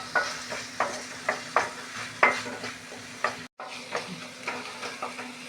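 Onion and tomato sauté with asafoetida in a pan, sizzling steadily under regular scraping stirs of a spoon that repeat about every half second, close and clear.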